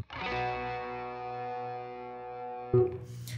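An electric guitar played through its pickup alone with no effects lets one chord ring cleanly and sustain for a few seconds, then a fresh strum sounds near the end.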